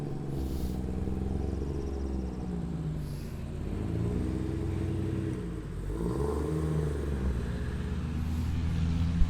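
A right-hand-drive 80 Series Land Cruiser with a Cummins diesel swap and custom exhaust and intercooler piping runs on a dyno, a loud continuous low rumble rising and falling as the engine revs, with no talking.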